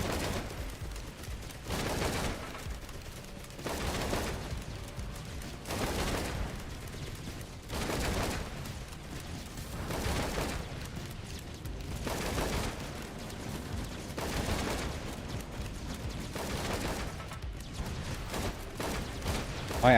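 Rapid gunfire in Risk of Rain 2, bursts of shots recurring every couple of seconds in a steady rhythm, loud and close over a dense game background.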